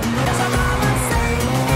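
A car drifts in the racing video game Need for Speed Heat, running a modded realistic-physics handling setup, its engine droning loudly under a continuous tire squeal that fills the short stretch without any talk.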